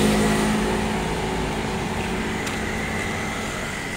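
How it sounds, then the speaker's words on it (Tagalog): Steady roar of traffic on a street with many vehicles passing, a continuous broadband engine and tyre rumble that stays loud and close throughout, with no talking. "Daming sasakyan eh."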